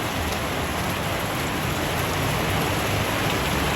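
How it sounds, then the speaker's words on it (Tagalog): Heavy rain pours down steadily, a dense, continuous wash of drops drumming on surfaces without a break, loud and close with no voices. "Ulan sa gitna ng El Nino, o di ba? Ulan yan."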